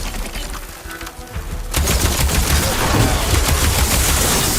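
Ballista bolts and grenades firing in Horizon Forbidden West: a loud, sustained barrage of rapid cracking shots and blasts erupts suddenly and keeps pounding without letup.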